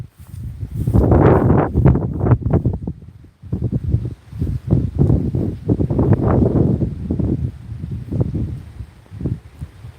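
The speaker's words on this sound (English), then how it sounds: "Very windy." Strong gusty wind buffets the microphone in deep, rumbling bursts, with a light rustle of leaves between gusts.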